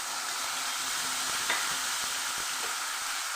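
Onion paste, added to ginger-garlic paste, fries in hot mustard oil with a constant close, loud sizzle, broken by a few stirring knocks of the spoon.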